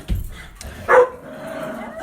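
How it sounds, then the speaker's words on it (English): A dog barks once nearby, a short sharp yap early on, followed by a louder bark about a second later, then a faint whimpering tone trails off over quiet room noise. "I don't know what they're barking at."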